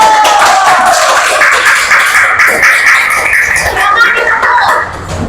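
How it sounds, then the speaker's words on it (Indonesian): Students in a classroom applaud group one after a presentation: loud, busy clapping from many hands at close range, with excited voices and a few shrieks mixed in, tapering off at the end. "Tepuk tangan untuk kelompok satu"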